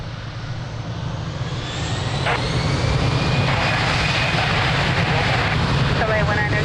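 Iberia jet airliner taking off from runway 02 at Lisbon Airport, a broad, steady engine roar that builds slightly and then holds loud and continuous throughout.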